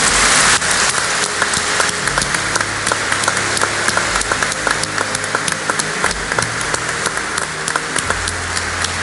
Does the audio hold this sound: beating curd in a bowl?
no